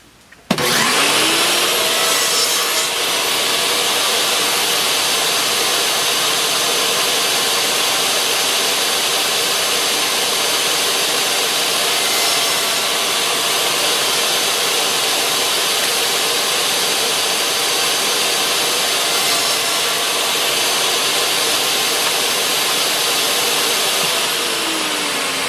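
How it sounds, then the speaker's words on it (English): Table saw cutting wood in a woodworking shop, a loud, steady high-pitched whine that starts abruptly and holds for over twenty seconds with no pauses or talk. "So I'll be doing this on the table saw."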